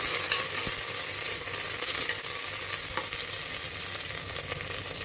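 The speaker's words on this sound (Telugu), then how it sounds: "ఇలా ఉల్లిపాయలు దోరగా వేగిన తర్వాత కొద్దిగా పుదీనా వేసి మళ్ళీ కలపాలి." Sliced onions with a little mint sizzle in oil in a pan, with steady frying hiss throughout. Scraping stirs of a spoon cut in now and then, close and clear, and no voices are heard.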